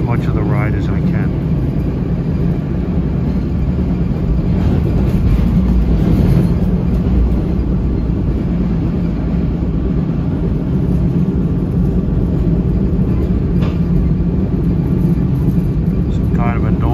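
Metro North train #943 riding the line from Grand Central toward Wassaic, heard from inside as a constant loud rolling rumble and rattle of the cars on the track, with a few faint clanks scattered through.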